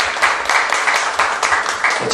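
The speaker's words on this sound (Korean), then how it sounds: "다시 한번 박수를 부탁드리겠습니다" An audience at a political party debate forum applauds. The clapping is dense, loud and continuous, with many hands close together and no break.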